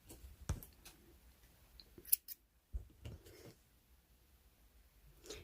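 Scissors snipping crochet yarn, a few quiet close clicks and cuts with soft handling noise in between, in an otherwise hushed setting.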